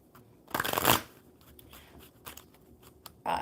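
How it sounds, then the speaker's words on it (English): A deck of tarot cards is riffled in one quick loud burst, followed by softer scattered card handling and taps. "I'm just going to get these shuffled really good."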